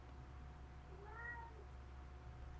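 A cat gives a single short meow, soft and somewhat distant, over a steady low background hum, with no talking.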